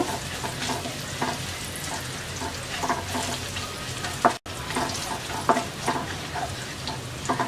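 Garlic frying lightly in oil for a monkey jackfruit pickle, a gentle continuous sizzle broken by repeated spatula stirs and scrapes, with a short dropout midway.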